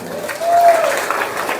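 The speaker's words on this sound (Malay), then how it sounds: "Berikan tepuk tangan kepada dia le." Applause swells from a crowd at a religious gathering in Lhokseumawe, a diffuse patter with a faint cheer or tonal voice mixed in, moderately loud and steady over the short span.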